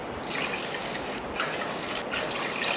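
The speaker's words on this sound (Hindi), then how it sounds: "अब साथ साथ पानी शामिल करेंगे" Water is poured into a pot of rice for kheer, a steady continuous splashing pour that runs unbroken at moderate volume, with no talk.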